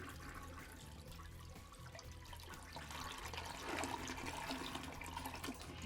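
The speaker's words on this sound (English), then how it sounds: "Press to flush, see her work, and she'll surely make you grin." A toilet flushes with a continuous rushing, gurgling swirl of water that swells toward the end, heard alone and fairly close.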